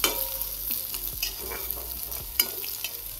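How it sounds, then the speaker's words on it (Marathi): Chopped onion and curry leaves frying in hot oil for jeera rice, a steady close sizzle under scraping stirs and a few sharp clinks of a spoon against the pan, with no voices. "आता कांदा टाकून घेणार आहे, कढीपत्ता पण टाकून घेणार आहे आणि सगळं छान असं मिक्स करणार आहे"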